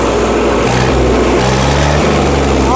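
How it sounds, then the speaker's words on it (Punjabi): Sonalika tractor engine revving loudly at a village trolley-pulling contest, a dense continuous roar with a low droning engine note that holds steady through the whole stretch, near and dominant. "ਇਹ ਆ ਪਿੰਡ ਦਾ ਟਰੈਕਟਰ ਆ ਭਾਈ ਕਹਿੰਦਾ ਰੇਸ ਰੱਖੋ ਟਰੈਕਟਰ"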